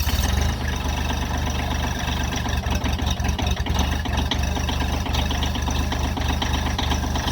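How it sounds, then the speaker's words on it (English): A vehicle engine idles steadily in winter cold after starting, a loud, close, continuous rumble with a regular low-pitched chug throughout. "Any vehicle you start in the winter, let it run for a minimum of 30 seconds before you move it"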